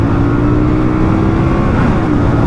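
A 2025 Voge 625 DSX motorcycle accelerates hard while overtaking on the road, a loud continuous engine roar mixed with heavy wind rush, steady and close throughout.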